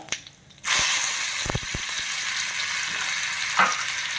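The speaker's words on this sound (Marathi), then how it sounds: "तेल तापलेलं आहे थोडीशी मोहरी टाकूया त्यानंतर आणि आपण जी भिजवली होती ती डाळ टाकायची आपल्याला" Mustard seeds and soaked dal hit hot oil in a home kitchen while tempering for Maharashtrian dahi bhakri, bursting into a loud, steady sizzle with a few sharp pops and crackles.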